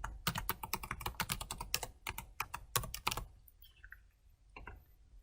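Quick bursts of keystrokes on a computer keyboard as a password is entered, clicking in rapid clusters close up and then trailing off into near silence with a few final taps.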